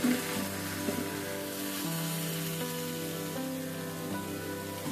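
Ridge gourd, capsicum and other ingredients fry in a pan with a steady, even sizzle, under a sustained humming tone.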